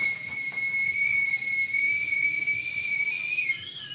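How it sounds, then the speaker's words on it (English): A sustained, high, steady whistle plays in the background with no voices, then drops in pitch and fades slightly near the end. "You guys hear that whistling in the background?"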